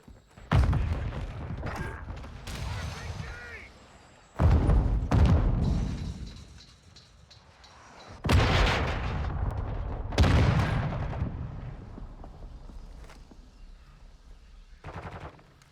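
Several heavy blasts and bursts of gunfire in a first-person shooter match, each loud impact followed by a decaying rumble, spaced across the clip with quieter stretches between them.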